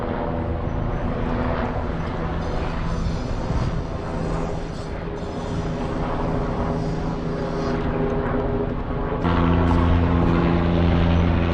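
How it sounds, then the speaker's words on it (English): A King County helicopter passes overhead at an outdoor scene, giving a steady, loud rotor and engine drone that holds throughout and swells slightly toward the end, with no talk over it. "That is King County helicopter that is flying overhead."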